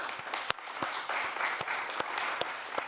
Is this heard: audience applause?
yes